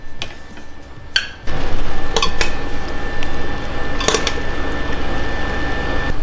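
Metal tongs clink against a pot while lifting freshly boiled chicken out, a few sharp clacks followed by steady bubbling and liquid sounds close by.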